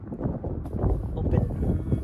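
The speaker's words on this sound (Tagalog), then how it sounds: "Medyo mahangin dito ngayon" Gusty wind buffeting a microphone in a large open park, a low rumbling roar that swells and fades over a couple of seconds.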